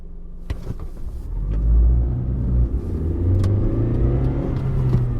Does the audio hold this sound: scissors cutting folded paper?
no